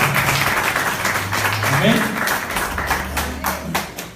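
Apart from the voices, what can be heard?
congregation applauding in church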